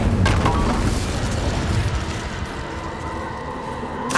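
The Incendio fire spell in the Hogwarts Legacy video game goes off with a loud booming burst at the start, then a fading roar and crackle, ending with another sharp pop.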